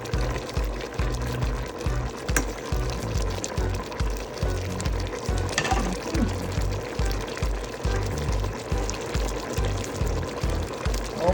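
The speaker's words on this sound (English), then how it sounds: "I have to put a little water in it." Water is poured into a pot of Jamaican-style chicken and cabbage soup, a soft liquid trickle over a rhythmic, pulsing background of kitchen noise, moderately quiet with no talk.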